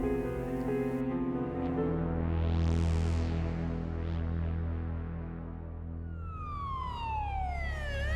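A wailing emergency vehicle siren on a street cycles up and down steadily throughout, fairly loud and close, with a faster yelp pattern sweeping in near the end.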